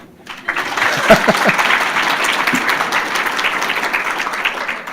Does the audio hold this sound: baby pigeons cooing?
no